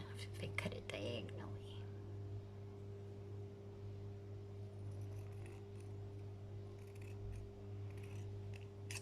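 Scissors cut paper diagonally for a handmade journal, giving a few quiet, close snips early on, then a low, steady background hum with faint soft voices.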